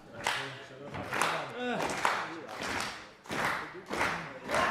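A pro wrestling crowd at an Attack! Pro Wrestling show clapping in rhythmic bursts under a commentator talking over it, the claps sharp and fairly close, rising and falling across the clip.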